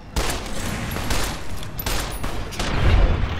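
Pistol gunshots in Fallout New Vegas, several loud cracks in quick succession over a dense, booming game soundscape, with no talking.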